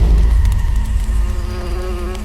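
A large carnivorous hornet buzzing, a loud, close, continuous drone with a steady wingbeat hum and no voices.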